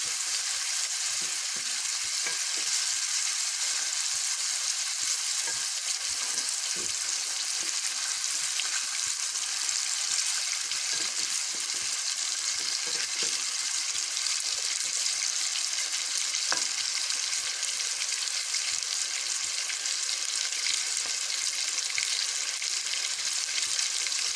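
Chicken and finely chopped onions fry in a pan with a steady, loud sizzle that holds for the whole stretch, broken now and then by faint stirring.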